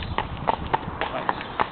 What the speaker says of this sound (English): We're on the back of a horse.